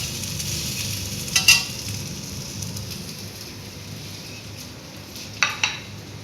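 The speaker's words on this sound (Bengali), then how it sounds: "আমি অলিভ অয়েল দিয়ে একটু সতে মতো করে দিয়েছি" Chopped beetroot patties sautéing in olive oil give a steady soft sizzle throughout, with a couple of brief clattering stir or utensil knocks near the start and end; no talking.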